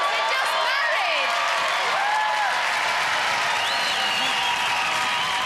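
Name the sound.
studio audience applause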